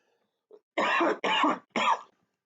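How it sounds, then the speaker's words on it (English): Three harsh coughs in quick succession follow a faint throat catch, close and distinct against silence, from a person recovering from pneumonia. "I might cough a few times during the rest of this."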